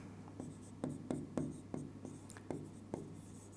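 Marker or chalk writing on a board during a Class 10 trigonometry lesson, a string of short scratchy strokes in an uneven rhythm, close and alone with no talk.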